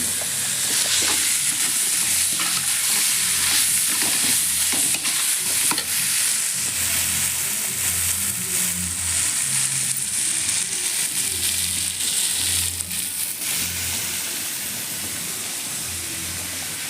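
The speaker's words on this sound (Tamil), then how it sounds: "கத்திரிக்காயை நல்லா வதக்கிட்டு" Eggplant sautéing in a pan, a loud continuous sizzle and hiss with occasional stirring scrapes, steady and close throughout.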